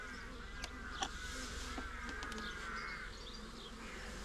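Honey bees buzzing in an open hive during a spring inspection after winter, a faint steady hum with a few individual bees droning close by.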